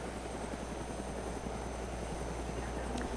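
Helicopter in the DayZ video game, a steady loud rotor and engine drone that holds evenly throughout with no talk over it.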